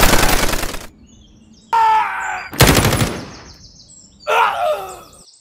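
Toy army men stop-motion battle with bursts of rapid machine gun fire, several loud dense volleys separated by short gaps, each cutting off abruptly.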